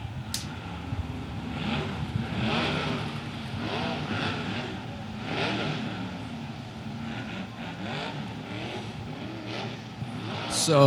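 At Santa Maria, 410 non-wing USAC/CRA sprint car engines run as a steady, fairly distant roar that swells and fades, with some background voices mixed in.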